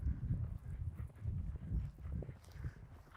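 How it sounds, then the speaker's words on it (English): Several horses walk past nearby, their hooves clip-clopping in an uneven, overlapping rhythm at moderate volume over quiet outdoor ambience. "Oh, look, we've got horses coming past."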